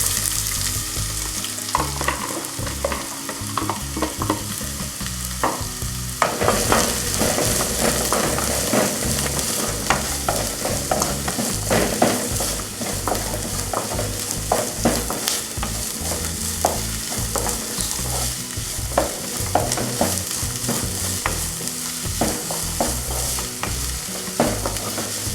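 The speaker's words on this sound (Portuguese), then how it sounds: "Deixa ele fritar um pouquinho, né?" Meat and onion fry in a pan with a loud, continuous sizzle and crackle, plus occasional stirring scrapes, and no one speaks.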